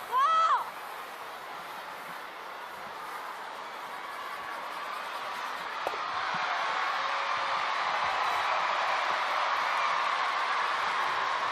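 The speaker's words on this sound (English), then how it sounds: "the home crowd appreciating that one" A home crowd at the 2017 World Women's Curling Championship, China against Korea, cheers and applauds in an arena, a broad, distant roar that swells gradually and holds steady after a brief whoop at the start.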